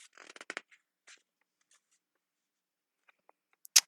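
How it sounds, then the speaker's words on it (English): Scattered crisp rustles and soft flicks of paper being handled, a short burst of shuffling followed by a few isolated faint touches and a sharper rustle near the end. "Let me shuffle my papers here."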